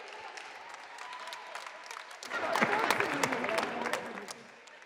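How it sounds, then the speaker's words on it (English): Audience applause at a talk event, beginning as scattered murmur and voices, then swelling into louder, denser clapping midway before tapering off. "Big round of applause."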